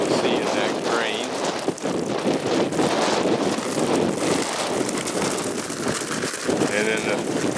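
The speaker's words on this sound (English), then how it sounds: "I give you an idea of how strongly this wind blows." Strong wind buffets the microphone at the Trapani salt flats in Sicily, a loud, steady broadband roar with gusty surges lasting throughout.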